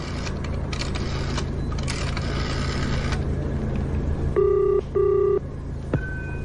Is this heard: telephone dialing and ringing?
yes